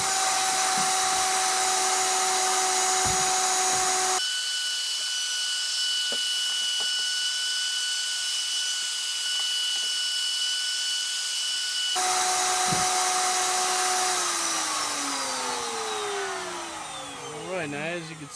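A woodworking router with a bearing-guided bit trims a zero clearance throat plate insert, giving a loud continuous whine that drops to a quieter hum in the middle, then returns and winds down at the end.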